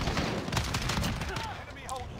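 Single gunshots from a semi-automatic FAL rifle in a Call of Duty match crack in a quick, uneven series, loud and close, with a voice speaking between the shots.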